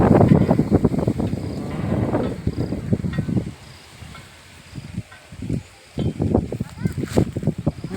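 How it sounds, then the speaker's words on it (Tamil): Wind blowing in a rural village in summer, gusty buffeting against the microphone with rustling, heard under close conversation and voices throughout. "நல்லா காற்று வருதுடா."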